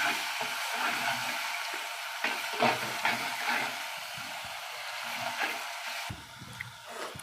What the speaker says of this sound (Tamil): அதே எண்ணெயில் இஞ்சி பூண்டு க்ரஷ் பண்ணது போட்டுடலாம்। நல்லா வதக்கிடலாங்க।